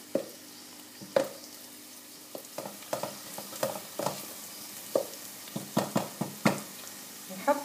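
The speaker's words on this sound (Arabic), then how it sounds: "خلي شوية شوية نحركو خاطر تشد راهي التشيشة" Tchich, a barley semolina, being stirred in a pot, with a series of soft scraping strokes and light knocks at an uneven rhythm over a quiet background.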